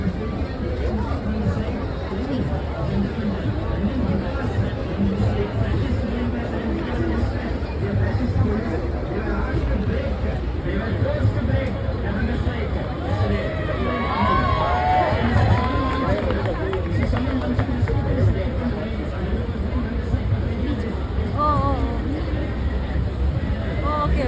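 Protest crowd at Freedom Park, Mumbai: a broad, steady murmur of many voices chattering together outdoors, with scattered louder calls rising briefly from the babble.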